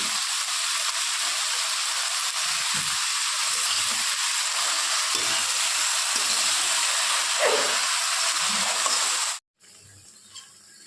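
Pot of shukto, a Bengali vegetable dish with pointed gourd, simmering and bubbling on the stove, a steady hissing boil with faint clinks, ending abruptly.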